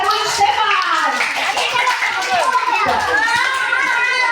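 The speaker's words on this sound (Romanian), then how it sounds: "Încă o dată aplauze pentru magicianul" Audience at a children's puppet show applauds a magician with sustained, dense clapping and excited children's voices mixed throughout, loud and close.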